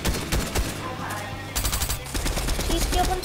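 Gunfire from the video game Fortnite rattles in rapid bursts throughout, loud and close, with brief gaps between volleys.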